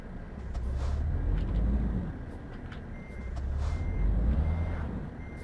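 Reversing beeps from a truck in the Euro Truck Simulator 2 driving game, repeating over a heavy, pulsing engine rumble that swells and fades twice, with no talking.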